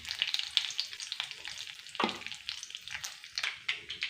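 Cabbage coated in kalai paste frying in an oil-filled pan with curry leaves for a vegetarian cabbage fry: a close, steady crackling sizzle with stirring scrapes and a sharper burst partway through, no voices.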